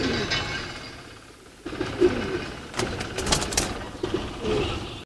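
Racing pigeons in a loft coo softly at close range, their low repeated calls mixed with background rustling and faint voices.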